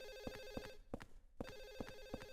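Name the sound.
telephone ringing in Silent Hill 4: The Room video game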